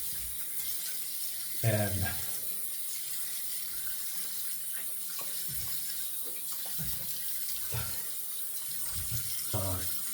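Tap water runs steadily into a sink to rinse shaving gear used with a GEM Featherweight single-edge razor and peppermint cocoa shaving soap, with someone talking intermittently over the flow.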